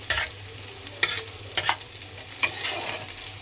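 Fish pieces fry in hot oil over browned onions, a steady close sizzle broken by several sharp scrapes of a spatula against the pan, with no voices.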